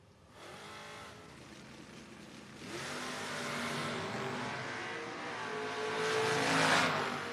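Two drag racing cars, including a hot rod, launch side-by-side down the strip at a No-Box 660 Shootout, engines roaring up from a moderate distance and swelling louder as they accelerate away.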